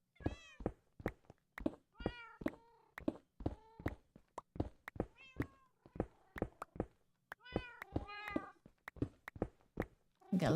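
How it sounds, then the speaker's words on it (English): Many cats meowing in a video game, a rapid, steady run of short repeated meows, some higher and drawn out, close and clear over near silence. "Got lots of kitties."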